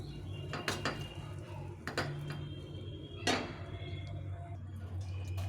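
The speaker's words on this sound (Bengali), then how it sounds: "একটা প্লেটের মধ্যে নামিয়ে দেবো।" Radish curry (mooli ghonto) scraped from a pan onto a plate, giving a few sharp metallic clinks and scrapes of utensil against cookware, spaced irregularly over a low steady kitchen hum, no talk.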